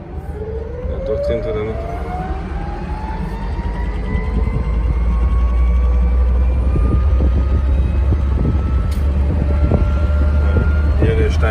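A Trabant converted to an electric car accelerating at full throttle, a rising electric motor whine climbing steadily in pitch over a loud rumbling road noise, with people talking briefly inside.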